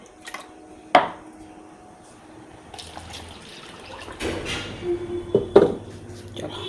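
Liquid poured out of a pot in a home kitchen, a soft trickling stream with clinks of metal cookware, a sharp clank near the start and louder knocks toward the end, fairly close and quiet.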